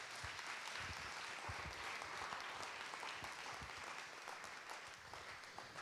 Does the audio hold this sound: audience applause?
yes